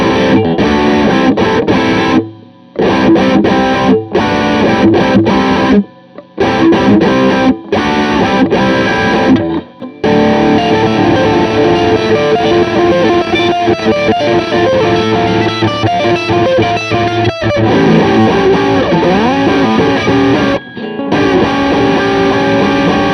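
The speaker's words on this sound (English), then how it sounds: "So let's take the gain up as kind of far as it'll go." Electric guitar played through an Orange Super Crush 100 amp with the gain turned up near maximum, giving a loud, dense, heavily distorted tone in continuous riffs broken by a few brief pauses.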